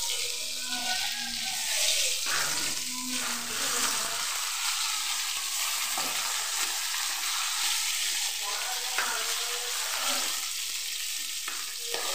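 Fish sizzles and crackles steadily in a hot pan in a home kitchen, a loud, close, continuous frying hiss with brief scraping and stirring sounds, and no talking.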